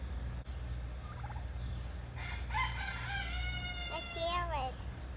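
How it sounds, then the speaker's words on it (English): A rooster crows once in a long, rising then falling harmonic call, with other birds chirping faintly behind a steady low background hum. "Think you'll crow? I think you'll crow."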